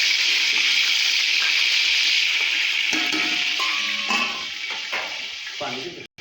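Water poured into a pan of frying onions and tomatoes for vegetable pulao, a steady bright hiss and sizzle that softens toward the end, with clinks of a spoon stirring and faint talk.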